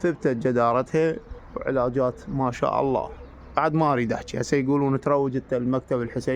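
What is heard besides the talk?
No everyday noises stand out.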